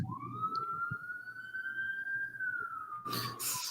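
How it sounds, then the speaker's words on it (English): Police sirens wail in the distance, a single rising and sustained tone running steadily for several seconds with a low background hum and a brief burst of broadband noise near the end. "someone's got police sirens in the background"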